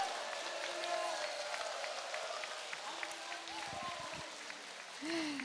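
Applause from a seated audience at an anniversary ceremony for a Red Cross lifelong-learning college, a soft, steady patter of clapping with a few voices and brief shuffles mixed in.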